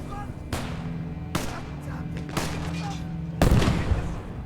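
A grenade blasts with a heavy, close boom in the WWII game Gates of Hell: Ostfront, following several sharp gunshots spaced about a second apart during an infantry fight.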